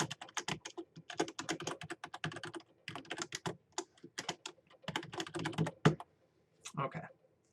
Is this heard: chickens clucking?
no